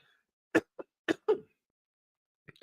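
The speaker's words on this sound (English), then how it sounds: "Oh man, I thought I got rid of the cough." A person coughs close by, a few sharp separate bursts in quick succession followed by a brief pause and another cough, with no talking.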